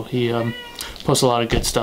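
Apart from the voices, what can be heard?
cat meowing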